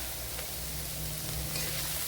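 Cauliflower thoran sizzles steadily in an open pan while being sautéed, a soft continuous crackle and hiss with faint stirring, no talking.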